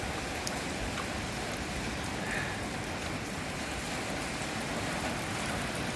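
Steady rain falls in Arizona after a storm band has passed, giving a constant wash of drops on surfaces with no distinct events, with no talking.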